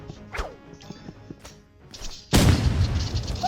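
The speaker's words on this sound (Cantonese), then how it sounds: "首先我哋就用突擊步槍嚟打佢哋啊！" Assault rifle gunfire in the Roblox Rivals shooter game: a few scattered impacts and whooshes, then a sudden loud, sustained burst of rapid crashing shots that fills the rest of the clip.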